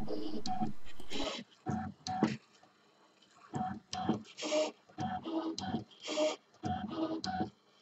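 Brother ScanNCut SDX cutting machine drawing with a calligraphy pen, giving repeated short bursts of motor whirring and pen-carriage movement in an irregular rhythm, close and moderately loud, with no talking.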